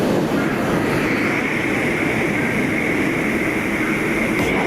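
A subway train rumbles steadily at the Atlantic Avenue - Barclays Center station, a loud, continuous broadband roar with a sustained hum that holds evenly throughout without a break.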